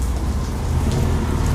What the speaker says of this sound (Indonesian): Ini lagi hujan